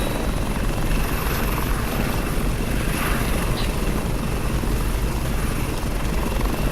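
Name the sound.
helicopter flying in a CryEngine 3 video game level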